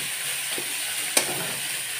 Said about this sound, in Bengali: এবার কুচি কুচি করে কুটে রাখা শাকগুলো দিয়ে দিলাম।